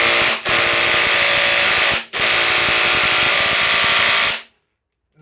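A Hilti impact driver hammers away while trying to back out a DeWalt screw, giving loud rapid rattling bursts. It pauses briefly twice, then cuts off into near silence at the end, with no voices.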